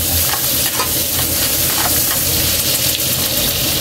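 Onions sizzle loudly in a hot pan for a tulingan tuna dish, with continuous close stirring and scraping throughout.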